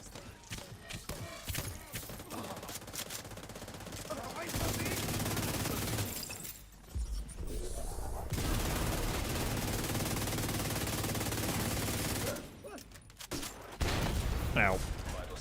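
Sustained bursts of automatic gunfire in a snowy video game rattle on for several seconds at a time, with brief pauses between long volleys and a voice speaking over parts of the shooting.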